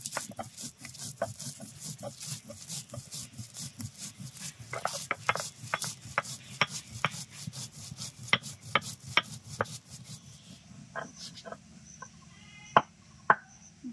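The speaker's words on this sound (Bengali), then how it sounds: "ভাজা মশলাগুলো বেটে গুঁড়ো করে নিলাম" Roasted cumin, coriander, dried red chili and bay leaf are ground into powder with rhythmic rubbing and scraping strokes, repeated many times at a steady pace, quiet and close, with a few sharper knocks toward the end.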